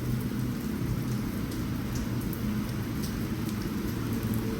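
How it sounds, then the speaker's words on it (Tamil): Steady heavy rain pours continuously outside a middle-class apartment complex in Malaysia, with low rumbles of thunder rolling underneath throughout. "சவுனா போயிட்டு வரதுக்குள்ளே மழையே வந்துருச்சு."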